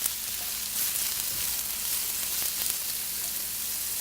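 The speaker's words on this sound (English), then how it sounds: "sliced medium brown onion to saute. Do this on a medium-high heat. And to that, I'm going to add some finely minced ginger" Sliced brown onion and finely minced ginger sauté over medium-high heat in a pan, a steady, close, bright sizzle that stays fairly even throughout with no voices.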